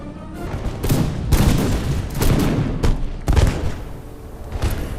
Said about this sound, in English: here's some of my ranger units getting some shots off